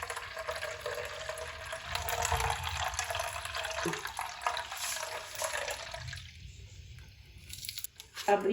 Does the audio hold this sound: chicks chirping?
no